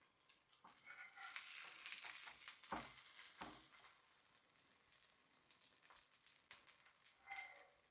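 Chickpea cutlets frying in a pan on low flame produce a crackling sizzle that swells and fades, broken by occasional scraping and turning sounds.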